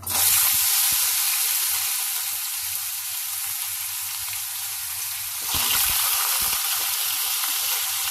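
Steady loud sizzling of finely chopped carrots frying in hot oil with popped mustard seeds, a continuous crackling hiss with a brief surge of spitting partway through.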